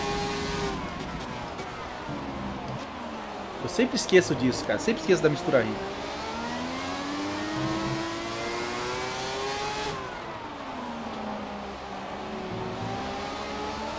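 A Ferrari 412 T2 Formula 1 car in the F1 2017 racing game, engine note climbing and falling steadily through gear changes as it accelerates, with a burst of sharp rasping blips midway, under someone talking casually.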